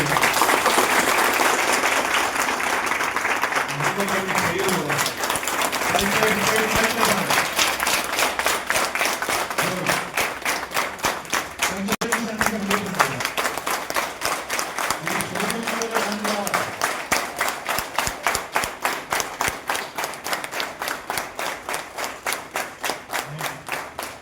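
Audience applause greeting a resolution at a public gathering in Mancherial district, a long, steady burst of many hands clapping that holds through the clip, with a few speech-like tones rising over it.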